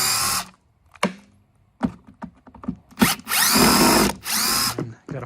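Cordless power drill backing screws out of an electric lawn mower's motor housing, heard in several short bursts of whirring with quiet gaps between, close and fairly loud.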